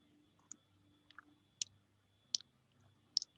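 Mouse clicks at a computer in Ansys Fluent software, five or so sharp, quiet clicks spaced irregularly across a near-silent background.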